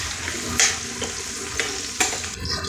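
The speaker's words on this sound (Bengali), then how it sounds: "জিরা, গোটাল জিরা। একটু হালকা ভেজে নিব।" Whole cumin seeds frying lightly in a pan, a constant close sizzle broken by a few sharp spatula scrapes and clicks.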